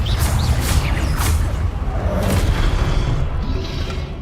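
An Incendio fire spell cast in the video game Hogwarts Legacy, a loud, roaring burst of flame with a booming low rumble and whooshing sweeps that holds for several seconds.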